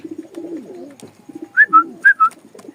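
Two male pigeons coo together, a few clear rounded calls close by in a pair of quick bursts, over low background murmurs from the loft.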